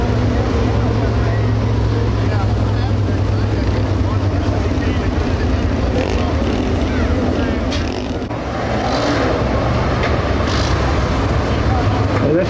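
Street stock race cars lap a dirt speedway at Cochran Motor Speedway, their engines a continuous droning roar that swells and fades slightly as they circle. A voice is partly audible over the engines.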